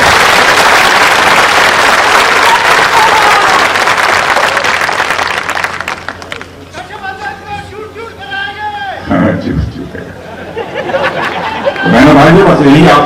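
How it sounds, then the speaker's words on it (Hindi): Crowd applause at a political rally in Mira Bhayander breaks out loud and sustained for several seconds, then fades into murmuring while someone speaks over a microphone, and the clapping swells again at the end. "एक बार ताली बजाकर इनको अपना समर्थन दे दीजिए"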